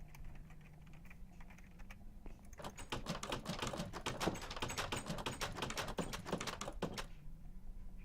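Rapid typing on a computer keyboard, a dense flurry of clicky keystrokes lasting several seconds and set between quieter stretches with only faint scattered taps at start and end.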